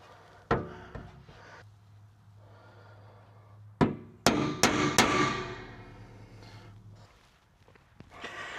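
A hammer drives a metal punch into aluminum pontoon tube, landing sharp ringing blows: a few spaced single strikes, then a quick cluster of loud, close hits, with a faint hum underneath.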